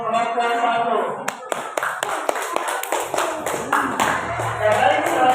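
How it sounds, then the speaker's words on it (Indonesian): Classroom of students applauding a group, a burst of scattered hand claps close by, with voices and chatter mixed in underneath. "berikan aplaus untuk kelompok satu"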